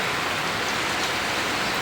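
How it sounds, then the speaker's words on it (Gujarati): Monsoon rain falls at a cow shelter on the Rajkot–Ahmedabad highway, a loud, dense, unbroken hiss of downpour close by, with no voices. "મેઘરાજાની મહેરબાની હોય અને વરસાદ વરસી રહ્યો હોય"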